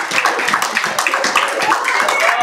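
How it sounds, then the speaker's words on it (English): A church congregation claps hands in praise, many hands producing a steady, fairly fast rhythmic patter that sounds close and continuous throughout. "Give the Lord a hand clap of praise."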